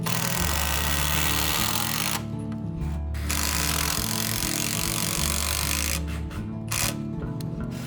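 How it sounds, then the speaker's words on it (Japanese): Power tool driving long dedicated rafter screws into wooden rafters during the framing of a traditional Japanese timber-frame house, heard as steady loud motor whirring with pitch changes and brief pauses between screws. "タルキを止めるのは釘ではなくてタルキック専用の長いビスで止めていきます"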